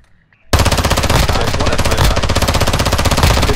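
Rapid, loud gunfire in the video game DMZ erupts abruptly after a short quiet moment and continues as a dense, steady burst of shots throughout.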